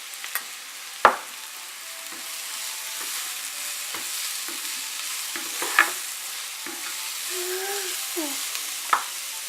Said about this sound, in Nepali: प्याज लसुन अदुवा पनि राम्ररी फ्राई भइसकेको छ।